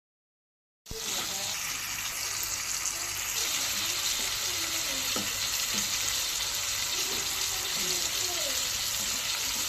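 Pointed gourd (potol) slices frying with spices in hot oil, giving a loud, steady sizzle that starts abruptly and holds evenly, with faint clinks of stirring beneath.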